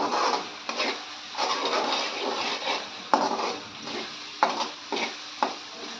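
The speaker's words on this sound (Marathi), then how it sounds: "हा मसाला चांगला परतवून घ्यायचा असा तेलात. तेल सुटेपर्यंत परतवून घ्यायचे." Masala sautéing in oil in a pan with a spatula scraping and stirring, soft rhythmic scrapes and occasional taps against the pan, fairly quiet.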